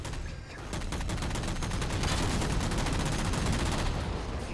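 Sustained dense gunfire in Halo 4 as jammers are shot down, a continuous loud rattle of rapid shots with no voices.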